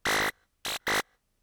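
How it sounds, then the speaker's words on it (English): An unfiltered FM synthesizer sounds three short, bright, buzzy notes, one long and two quick ones, with hard starts and stops, close and clean, with no talking. "So just having an FM sound like this,"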